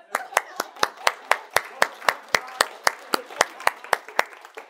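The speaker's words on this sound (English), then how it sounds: "Let's give him a round of applause." Hands clapping at a time management and productivity talk, a sparse, evenly paced series of sharp, loud claps from a small group, with no talk over them.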